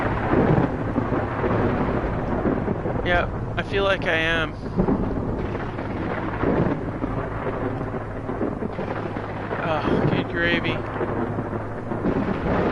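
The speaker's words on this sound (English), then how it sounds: "I feel like I'm heading into the storm" A video game thunderstorm with steady heavy rain and rolling thunder fills the scene, loud and constant throughout, while someone speaks briefly over it.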